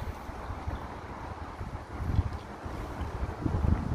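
Wind blowing at the seaside, gusting against the microphone in low rumbling surges that swell and ease, with no one speaking.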